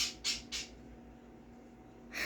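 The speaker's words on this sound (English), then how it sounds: "My bird's over there dancing and chirping." A pet bird chirps indoors in three quick bursts near the start and one more at the end, fairly close, with a steady low hum between calls.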